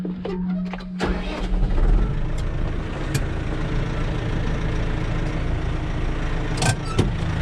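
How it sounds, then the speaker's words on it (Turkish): A Massey Ferguson 5440 tractor's engine cranks and catches with a sharp start, then settles into a steady, fairly close diesel running rumble with a few clanks as it moves. "Traktörü çalıştırıp azıcık ileri ya da geri gidelim arkadaşlar."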